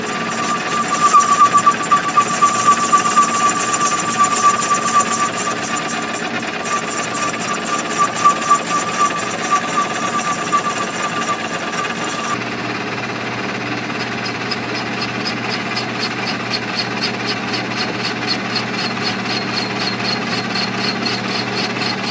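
Parts for a Polaris triple 650 turbo engine build being machined on a lathe, turning down the outer diameter: a loud, steady, continuous metallic whir and chatter, close up and unbroken for over twenty seconds, with no speech.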